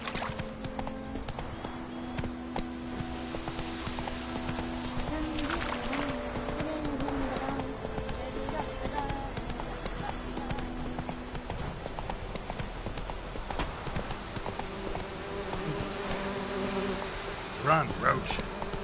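Roach, a horse in The Witcher 3, gallops with steady hoofbeats throughout, layered over a busy game soundscape with humming insect-like ambience and a faint musical drone.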